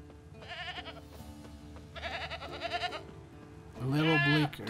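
Goat tied to a stake as forktail bait in The Witcher 3: Wild Hunt, giving a loud, close, wavering bleat near the end after fainter earlier bleats over background game music.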